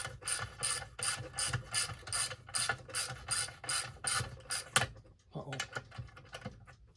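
A threaded fitting on a pot being loosened with a ratchet, giving a fast, steady run of close, crisp clicks that pauses briefly and then resumes more sparsely.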